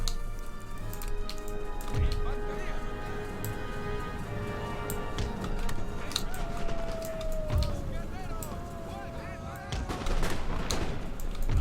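Musket volleys crackle across a battlefield in the strategy game Empire: Total War, several sharp flanking shots and distant rolling fire scattered over a busy mix of game sounds, with someone talking throughout.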